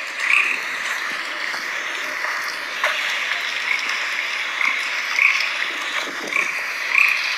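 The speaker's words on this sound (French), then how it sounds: "ce qui m'énerve, c'est le bruit des crapauds là même qui m'énerve." Chorus of toads croaking in a dense, continuous trill, with a few louder, nearer calls standing out at intervals over a steady night-time background.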